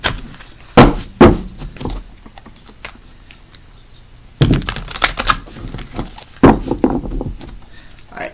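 Tarot cards are riffled and tapped in a few short bursts, with quiet clicks and pauses between, close and fairly loud.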